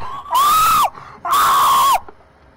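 A person screams twice into a close microphone during a Garry's Mod game session, two loud, sustained, harsh shrieks each about half a second long with a short pause between, followed by a faint fading tail.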